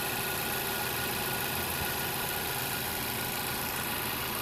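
A 2018 Chevy Malibu's quiet, smooth engine idles with the hood open, giving a steady, even hum with no change in pitch and no voices.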